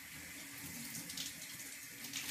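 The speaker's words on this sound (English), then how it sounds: "Turn the water on." Water runs from a tap into a sink during a wash, a steady splashing gush that flows continuously at moderate volume with no voices over it.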